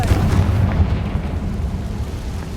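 Confringo blasting spell from Hogwarts Legacy going off as a loud, deep explosion with a rumbling boom that stays dense and steady throughout.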